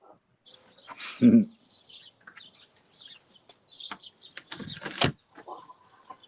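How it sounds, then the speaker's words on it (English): Scattered bird calls and chirps come in short bursts against a quiet background, with a louder low cluck near the start. "I love now hearing the chirping birds."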